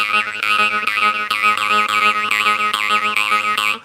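Jaw harp twangs steadily in quick rhythmic plucks while the player breathes in and out through the nose, giving a wavering, wah-shaped metallic drone, close and alone.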